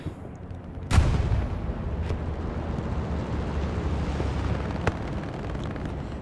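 Explosions and missile fire in the video game Hell Let Loose: a sharp blast about a second in, followed by a long rumbling roar and fainter distant booms.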